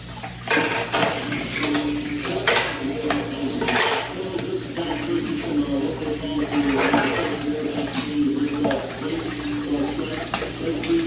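Washing plates and dishes at a sink after a meal, running tap water splashing steadily while dishes clink and knock against each other repeatedly, with faint talk in the background.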